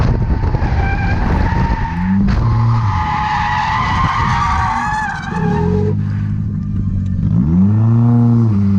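A car drifting with tires skidding and squealing in long, wavering screeches over a revving engine, close and loud.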